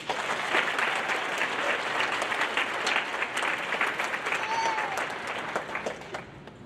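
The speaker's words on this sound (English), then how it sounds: "Let's give her another round of applause." An audience at a high school graduation claps steadily throughout, a dense wash of applause that tapers slightly toward the end.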